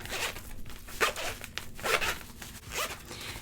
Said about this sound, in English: You have another little zipper back here to put things in